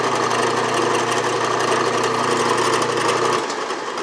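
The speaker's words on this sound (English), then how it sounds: "So I'm going to go ahead and drill just enough to get it started" A drill runs steadily into a metal workpiece on a small machine, a constant close motor whine with a bright grinding hiss, which drops off slightly near the end; no talking.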